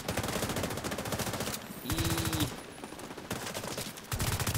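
Rapid automatic gunfire in The Division 2's Dark Zone, loud and continuous bursts of shots with brief pauses and a tonal game cue in the middle, no talking over it.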